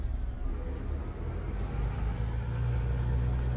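A V10 truck engine with open pipe exhaust in Euro Truck Simulator 2 gives a continuous deep rumble that swells slightly as the truck pulls away, loud and steady with no voices.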